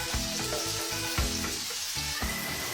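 Potato pieces fry in a pan on a low flame, giving a steady close sizzle broken by several soft stirring scrapes and clunks, with no talking.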